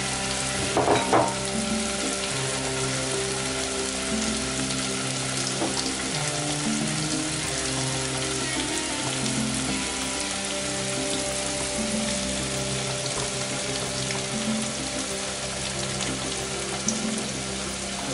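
Garlic fries in a pan alongside tomato, a loud, continuous sizzle that holds steady for the whole stretch, with a brief clatter near the start and a low humming background; no one talks.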